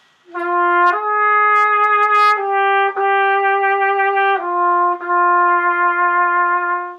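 A solo brass instrument plays a short phrase of clean, sustained notes in a steady rhythm, close and bright, with no ornaments between them.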